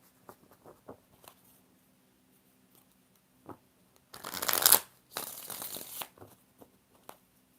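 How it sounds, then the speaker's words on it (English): Tarot cards are shuffled by hand in short bursts: a few light taps and riffles, then two dense, close shuffling runs before quieter card handling. "4 shuffles for Dana"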